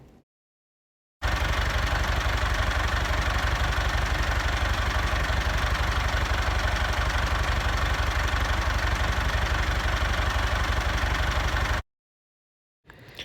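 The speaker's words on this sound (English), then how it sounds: "I'll insert here a clip of the tractor running." An International 574 tractor engine idles steadily and loudly for about ten seconds, a low, even chugging rumble that starts and stops abruptly.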